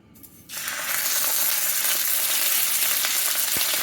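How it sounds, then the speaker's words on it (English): Salted chicken skin sizzles loudly in a hot pan, a steady broadband hiss that starts after a brief quiet moment and continues without pause. "You want to hear a sizzle. That way, that's how you know, you're not just steaming you're not steaming your chicken."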